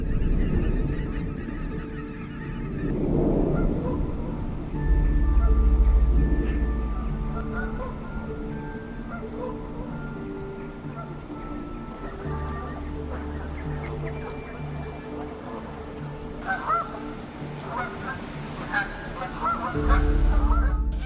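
Snow geese honking continuously in a large flock, layered calls overlapping throughout with a low rumbling background, no talking.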